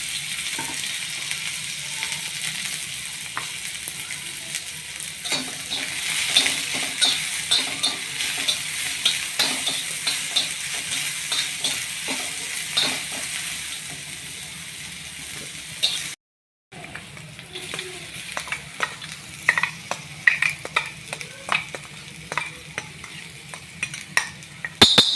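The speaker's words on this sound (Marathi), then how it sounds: "थोडं मी तेल टाकणार आहे आणि आपल्याला कांदा त्याच्यात टाकायचा आहे." Chopped onion frying in hot oil in a pan for a spicy chili-onion thecha, a steady close sizzle broken by spoon-stirring scrapes and clinks, with a brief drop to silence partway through.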